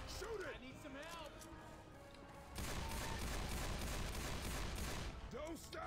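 Rapid gunfire from the co-op zombie shooter Left 4 Dead 2 in a busy, dense burst within the game's layered sound, with player voices calling out over it.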